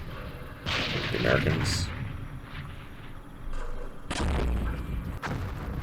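Artillery fire in the Vietnam War strategy game Campaign Series Vietnam, with a few low booming blasts and rumbling impacts heard at moderate level beneath a voice talking over the action.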